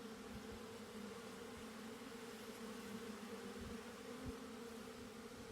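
Honey bees drone steadily around an open hive during an inspection, a continuous close buzzing hum with a few brief low thumps and no talk.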